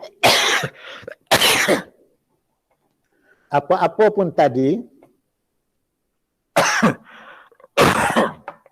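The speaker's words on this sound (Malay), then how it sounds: "maaf batuk" Several sharp coughs in two bursts during a Malay-language lecture, with the speaker briefly apologizing between them.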